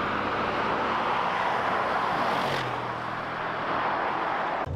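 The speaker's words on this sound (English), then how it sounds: "I love the noise of that exhaust." A Mercedes-AMG G63 SUV being driven, a steady engine and exhaust drone heard from inside the cabin, fairly loud and continuous with a brief surge near the start.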